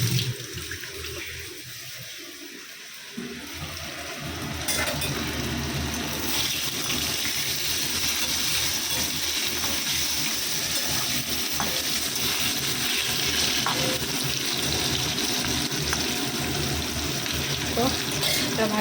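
Tap water running into a kitchen sink to wash things, a steady rushing splash that starts after a few seconds and keeps on loud, with a voice speaking faintly near the start.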